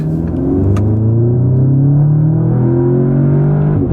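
A 2017 Audi S3 in manual mode pulls hard from inside the cabin, a loud, steady engine drone that rises in pitch through the gear, with no talk over it.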